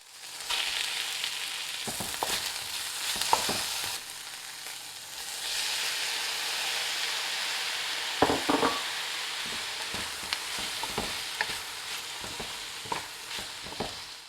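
Vegetables and protein stir-frying in a pan for Singapore noodles: a continuous close sizzle with scraping stirs and occasional clinks of a utensil against the pan.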